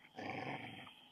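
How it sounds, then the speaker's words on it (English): A dog's low, steady growl rumbling for about a second, fairly faint, heard during an outdoor yoga session with no talk over it. "We've got some growling going on here."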